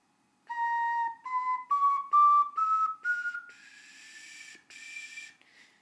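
Glazed ceramic ocarina in B, gold-lustered with a clear-coat finish, played alone as a rising run of short breathy whistled notes, each a little higher, ending in airy sustained high tones near the top of its range.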